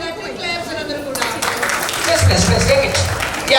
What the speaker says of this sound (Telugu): షాన్వి కోసం కటింగ్ క్లాప్స్ అందరూ కూడా.